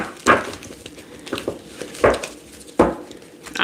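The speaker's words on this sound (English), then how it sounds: "So let's shuffle these cards." A deck of tarot cards is shuffled in several short, crisp bursts of riffling and tapping, separated by quieter pauses and close to the listener.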